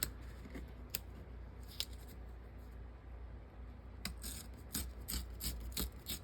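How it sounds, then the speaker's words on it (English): Paper is torn along one edge to size journal pages, with quiet rough rasping and short bursts of ripping, close and soft, the tearing clustering toward the end without speech. "We're going to tear down one edge."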